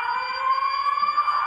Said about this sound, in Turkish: Anons sirenimiz.